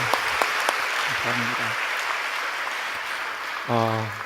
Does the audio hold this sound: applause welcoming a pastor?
yes